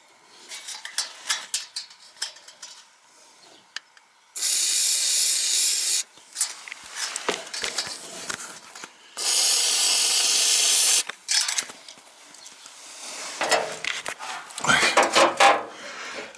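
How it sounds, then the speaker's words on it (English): Penetrating oil sprayed from an aerosol can onto the loose heatshield fixings under a Jaguar XK 5.0 Portfolio Coupe: two sustained hissing bursts of roughly one and a half seconds each, close by, separated by handling and rustling noises. "Get some penetration oil on these fixings."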